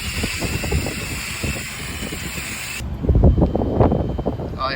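Cleaner sprayed onto a dirty, iced-up walk-in freezer coil: a steady, close hiss for a few seconds, then cuts off into rougher rustling and handling noise.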